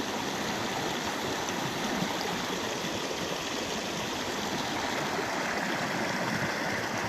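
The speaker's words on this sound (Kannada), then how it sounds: "ಇದೆಲ್ಲ ಏನಪ್ಪ ಅಂತಂದು ಜಮೀನೊಳಗೆ ನೀರು ನುಗ್ಗಿಕೊಂಡಿರುವಂಥದ್ದು" Floodwater rushing into farmland fields, a continuous loud broadband rush of flowing water, steady and unbroken, with no voices.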